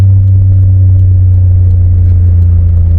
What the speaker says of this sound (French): Il a un échappement quasiment libre donc ça aide.